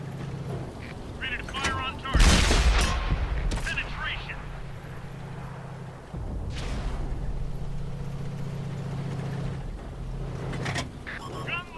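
A single heavy tank cannon shot booms from the Chinese 110 heavy tank in World of Tanks on console, followed by a steady low engine rumble, with voices heard over the game.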